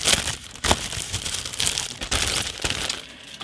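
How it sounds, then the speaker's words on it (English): A plastic bag around a sprue from a Tamiya 1/35 Marder I model kit crinkles and crackles close up, in irregular rustling bursts that continue steadily without talk. "Each of the individual sprues is packed into a plastic bag."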